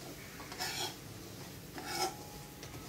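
Dry semolina being poured into a pan and stirred for suji and banana halwa, giving two soft scraping, rasping bursts of spoon against metal with a quiet gap between them.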